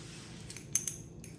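A metal spoon clinks against a glass while stirring stevia into a drink, giving a few light, bright taps close up over a quiet background.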